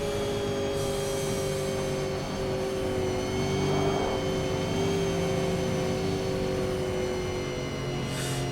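A V8 Supercar in the iRacing sim at Phillip Island, its engine droning steadily near and loud with a sustained high whine, a brief swell of acceleration midway, the car having just run short of fuel.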